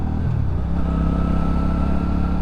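A Benda motorcycle rides along with a loud, close, low engine rumble that stays constant throughout.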